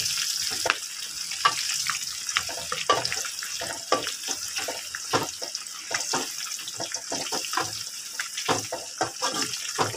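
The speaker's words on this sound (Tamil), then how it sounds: "இப்போது கொதிக்குது இல்லையா எண்ணெய், அந்த கொதி அடங்கணும்" Herbal hair oil with leaves bubbling and boiling in a pan on a low flame, a steady crackling sizzle with frequent sharp pops and spatters, close and continuous throughout.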